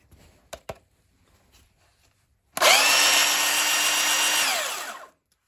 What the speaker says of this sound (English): This first beast, this is a belt sander.